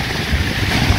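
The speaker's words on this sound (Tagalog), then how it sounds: "Lakas ng hangin." Strong wind roars steadily across the microphone during a flood, a loud continuous rushing blast with no breaks and no voices.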